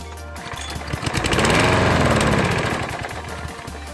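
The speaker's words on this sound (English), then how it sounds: "Let's go ahead and show you what it's doing by priming the mower and trying to start it." A Craftsman lawn mower with a fault starts after priming, and its engine putters and rises to a loud throbbing run before sputtering down and dying within a few seconds, heard close up.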